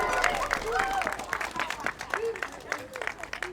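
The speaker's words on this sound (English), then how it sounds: "A round of applause." Children at an elementary school election rally clap in a sustained round of applause, a steady patter of many small hands with scattered voices and crowd chatter mixed in throughout.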